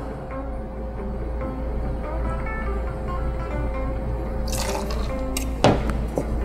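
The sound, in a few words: pouring Micampo Blanco tequila into a jigger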